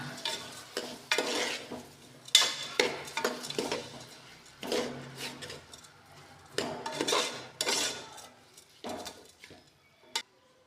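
Uncooked rice is stirred and mixed in a cooking pot for vangi bath, with a string of close scraping, rattling strokes in irregular bursts and short pauses between them, and no speech.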